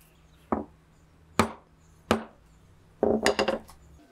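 A chisel is tapped into wood to cut a cogged lap joint: three separate sharp knocks spaced about a second apart, then a quick cluster of lighter taps, close and clear in a quiet room.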